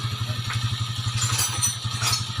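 A repaired Honda TMX motorcycle engine idling up close, a steady rapid low putter with a faint clattery ticking on top, even and unbroken throughout.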